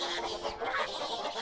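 Hyperactive black duck from the Baten Kaitos video game, a busy run of rapid clucking, quacking bird calls packed close together and loud for the whole stretch.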